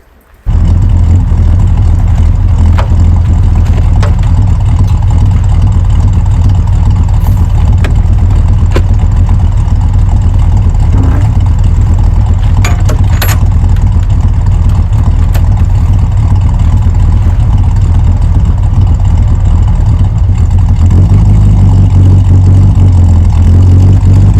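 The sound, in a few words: Land Rover Series 3 engine starting and idling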